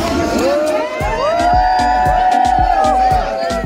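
A crowd yells and cheers together in loud bursts, with rhythmic thumps and whoops mixed into the noisy, excited shouting.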